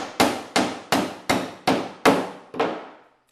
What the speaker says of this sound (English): I can just nail it in.